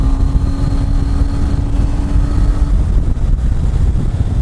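A 2018 Triumph Tiger 800 XRt motorcycle being ridden, a loud continuous engine drone buried in heavy wind rush against the microphone, steady throughout with a faint tone fading partway, no talking.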